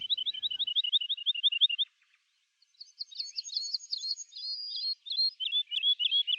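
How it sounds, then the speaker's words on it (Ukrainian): Small grey skylarks singing in spring, a close, clear run of rapid repeated high chirps, a brief pause, then a longer rippling warbled trill, with no voices. "А ще до нас прилітають сірі маленькі жайворонки, щоб своїм співом звеселити усе навколо."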